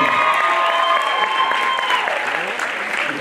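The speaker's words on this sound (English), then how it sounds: "one more round of applause" An audience at a university mock rock show claps steadily, a dense, even burst of applause with a few faint cheers underneath.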